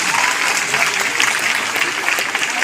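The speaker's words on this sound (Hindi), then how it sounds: "एक बार जोरदार ताली।" Loud, sustained applause from a large crowd at the opening of a state-level girls' kabaddi tournament, a steady dense roar of clapping with a voice faintly underneath.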